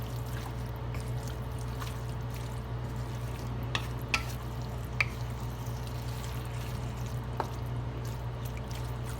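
Pork pieces browning in a pot for Kapampangan dinuguan give a steady low sizzle, with a few soft clicks of stirring scattered through. Nobody speaks.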